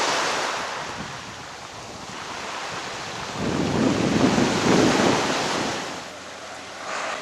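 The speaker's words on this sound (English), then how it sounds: "The biggest problem is that it's windy." Strong wind roars across the microphone by the sea in Cyprus, with waves surging beneath and a louder gust swelling in the middle.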